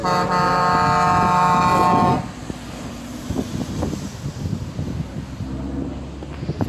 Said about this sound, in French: Il y a beaucoup de gens qui vous klaxonnent par sympathie.